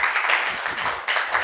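A classroom of students applauding a classmate during a chemistry lesson, a short, busy patter of clapping at close range.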